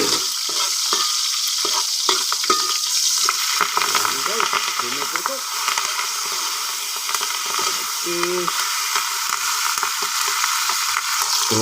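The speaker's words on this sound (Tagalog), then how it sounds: "Prito lahat ang mga gulay." Vegetables, including pechay, sizzle steadily as they fry in a hot pan, a loud, continuous hiss with occasional stirring clatter and a faint voice in the background.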